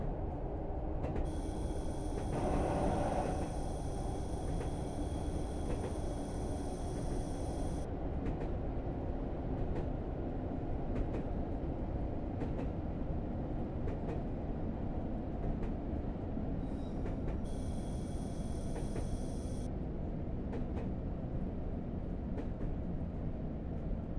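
A train on the Weardale line arrives at Wearhead station, the end of the line, with a steady low rumble heard from on board and occasional high whines and clicks throughout.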